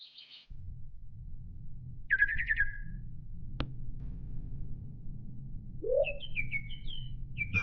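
A small pet bird, a crestling, in a pet-raising video game gives a few bright, short chirps and rising trills, separated by pauses, over a soft low background drone.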